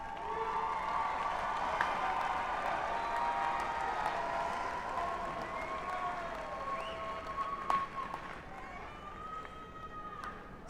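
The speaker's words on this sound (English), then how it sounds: "give those folks a round of applause" Graduates at a university commencement ceremony applaud in a large, reverberant venue, a broad sustained wash of clapping and crowd noise lasting throughout, with a few sharper claps near the end.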